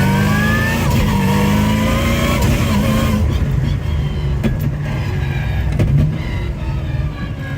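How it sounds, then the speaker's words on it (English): A supercharged Whipple Boss 5.4 litre V8 in a Ford Falcon XR8 with a Modena sequential manual gearbox revs on a dyno, a steady loud engine drone with rising pitch, then easing off. "First up on the dyno is Joe's wild XR8."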